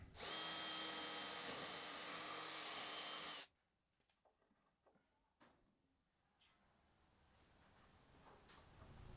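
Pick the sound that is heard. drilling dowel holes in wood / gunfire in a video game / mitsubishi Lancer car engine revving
drilling dowel holes in wood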